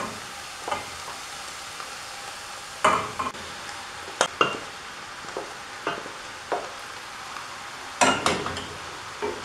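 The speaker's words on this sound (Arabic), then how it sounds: "نحرك توا الكل في بعضه" Spinach and rice stirred together in a pot after frying with onion and garlic, producing irregular scraping and soft clinking strokes spaced through quiet stretches, with a few stronger scrapes.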